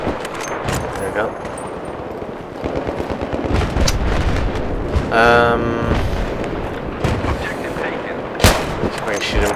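Gunfire in the Battlefield 3 shooter on the Tehran Highway map: loud, sharp bursts and scattered shots cracking irregularly throughout, with booming impacts and brief speech-like chatter mixed in.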